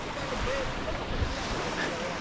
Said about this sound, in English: Waves aren't really big here